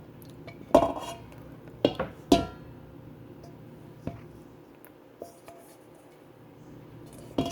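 Wet ingredients being mixed into dry ingredients in a bowl, heard as a few sharp utensil clinks and scrapes against the bowl spaced irregularly over quiet background.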